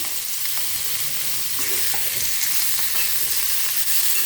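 Potatoes stir-fry in oil with salt and turmeric for a pepper fry, giving a loud, dense, continuous sizzle with faint scraping of stirring, close and unbroken.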